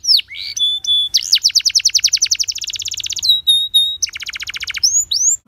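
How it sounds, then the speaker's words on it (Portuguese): A Belgian canary sings close and loud, a rapid run of bright chirps and fast repeated trills in several phrases, with quiet room noise underneath. "O canário belga."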